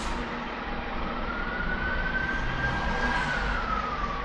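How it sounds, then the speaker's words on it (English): Emergency vehicle sirens wail on a UK road as a steady wavering tone over constant traffic and engine rumble, heard from inside a car. "Sirens, where are they?"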